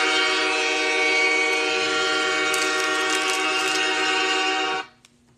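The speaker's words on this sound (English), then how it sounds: "Here comes the train horn." A loud, sustained train horn blares as one long steady chord with rich layered tones for nearly five seconds, then cuts off abruptly into near silence.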